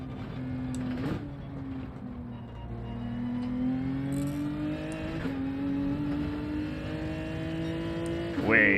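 A GT3 race car engine in a racing game holds a steady drone while revs rise slowly, with brief throttle blips and a sharper surge near the end; a voice talks over it.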